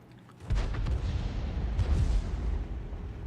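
A M44 self-propelled artillery piece's 155mm gun fires in the World of Tanks video game: one loud, heavy boom with a long rumbling decay that fills the rest of the moment.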